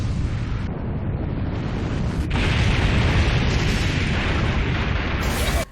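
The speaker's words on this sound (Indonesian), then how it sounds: "militer Jepang pun menggunakan bom nuklir untuk mengalahkan Angel tersebut." A nuclear bomb blast in the Evangelion anime, a sustained roaring rumble that swells partway through and holds loud and dense before cutting off abruptly.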